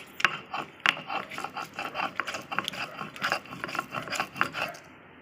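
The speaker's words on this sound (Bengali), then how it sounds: "পোস্ত আর মৌরি বেটে নেব।" Poppy seeds and fennel are ground into a paste for a doi katla curry, giving a steady run of rhythmic rubbing and rasping scrapes, close and fairly quiet, with no one talking.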